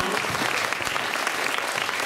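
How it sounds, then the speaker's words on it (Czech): A crowd applauds warmly at a majorette troupe's fairy-tale performance event, giving a volunteer seamstress a big round of clapping, a dense, continuous patter of many hands close by. "Takže velký potlesk pro Vlaďku Ferinovou"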